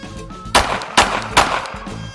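Pistol fired during concealed carry training, three loud close shots in about a second with even spacing, each followed by a short ringing tail.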